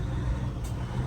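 A classic Peterbilt 379 truck downshifts on the engine brake, a close, loud low-pitched diesel rumble with a choppy, pulsing texture, with a brief hiss near the end.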